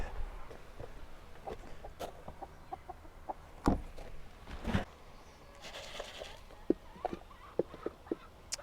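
Chickens cluck and squawk nearby in short, scattered bursts, with a few louder calls and rustling in between.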